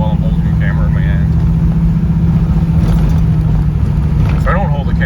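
A NASCAR stock car with a 416 stroker LS3 V8 drives along, its engine a steady loud drone heard from inside the car, with someone talking throughout.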